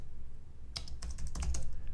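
Fingers type an unzip command on a computer keyboard, a short close flurry of quick clicking keystrokes over a low hum, with no talking.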